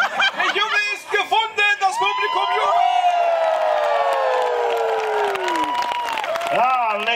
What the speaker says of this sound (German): das Publikum jubelt